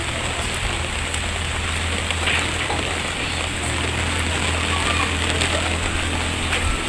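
Dense, constant hiss of heavy rain pouring down, loud and unbroken, with a low steady hum underneath.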